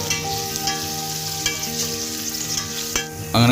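Onion, coriander and mint frying for chicken biryani in a pan, a steady close sizzle with occasional clinks and scrapes of stirring throughout.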